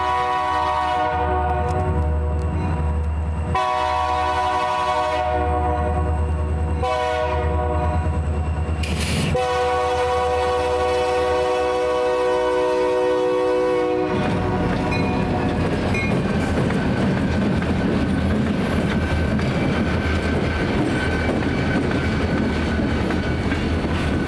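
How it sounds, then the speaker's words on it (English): A BNSF freight train switches cars at the Coors brewery in Golden, Colorado. Loud horn blasts sound over a steady locomotive rumble, followed by a broadband roar of railcars rolling past close by. "Here we capture tons of train action, including BNSF's Golden Switch."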